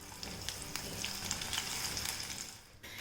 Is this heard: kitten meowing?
no